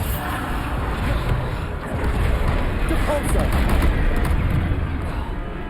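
Bombarda spell blasts cast during Hogwarts Legacy combat: a loud, dense, continuous roar of explosive, gunfire-like bursts that swells and stays thick for the whole stretch, with voices mixed in.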